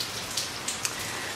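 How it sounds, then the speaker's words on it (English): Heavy rain pours steadily outside a house garage, a dense continuous hiss with a few sharper drips tapping near the listener. "it is pouring. It's raining."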